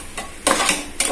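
Ginger garlic paste sizzles in hot oil in a pan for mutton kuzhambu while a utensil stirs and scrapes it in a few quick, close strokes.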